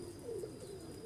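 A single pigeon gives a short, close, soft coo with a gentle rising and falling tone, heard alone.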